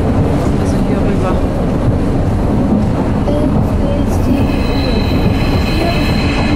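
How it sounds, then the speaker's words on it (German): A Berlin S-Bahn train rolls into Alexanderplatz station, its loud steady rumble filling the platform, with wheels squealing in a high sustained whine toward the end. "Da kommt sogar gleich unser Zug."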